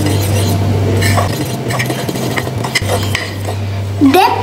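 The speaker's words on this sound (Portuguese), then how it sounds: "E você pode mexer com um garfo. Eu mexo com um garfo." A fork stirs chocolate cake batter in a mug, giving soft repeated scraping and clinking against the mug, close and fairly loud over a steady low hum, with no voices.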